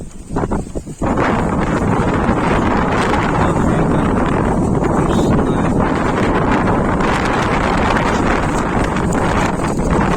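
Extremely strong hurricane wind at a building site roars across the microphone in a loud, unbroken blast, briefly gusty at first and then a constant, overwhelming rush.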